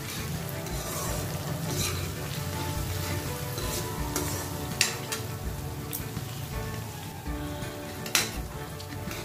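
Curry leaves frying in hot oil for a beans fry curry give a dense, continuous crackling sizzle, close and steady with a couple of brief sharper pops.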